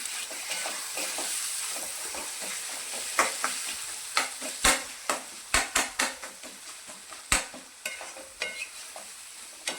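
Tomato chutney cooking in a pan, stirred with a spoon that scrapes and taps in a run of sharp strokes over a steady sizzle, close and fairly loud, no voices.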